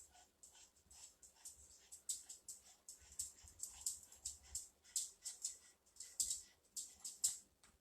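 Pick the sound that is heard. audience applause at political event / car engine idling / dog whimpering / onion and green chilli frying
dog whimpering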